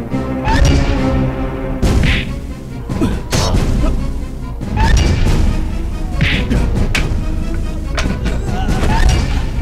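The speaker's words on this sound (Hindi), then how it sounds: "अरे पटाखा ना है अरे बम फटल बताओ" Several loud explosive blasts burst out one after another, each a sharp crack with rumbling debris and noisy commotion in between.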